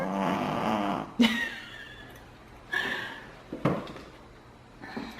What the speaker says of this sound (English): Are you showing everybody how you snore?